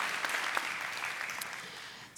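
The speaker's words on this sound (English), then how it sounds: "One last round of applause for all of our shortlisted submissions." Audience applause at a design conference award ceremony at The New School, moderate clapping that holds steady and then fades, with a brief bright noise at the very end.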